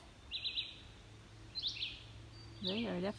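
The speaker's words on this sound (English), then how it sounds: "Can you hear the birds?" Faint, distant morning birdsong on the Appalachian Trail in Maryland in short chirping bursts, separated by quiet pauses, over a soft background hum.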